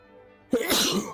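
A single sharp human sneeze bursts out after a brief quiet lead-in, close and fairly loud, and trails off quickly.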